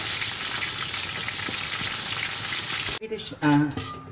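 Fenugreek spice mix (halba campur) fries in hot oil with a steady close sizzle, which cuts off abruptly near the end and gives way to a brief clatter and a short burst of talk.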